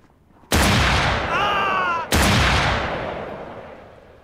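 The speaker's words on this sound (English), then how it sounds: "Two shots towards the player" Two loud revolver shots in NAKWON Last Paradise, about a second and a half apart, each a sharp blast with a long echoing tail that slowly fades, with no talk.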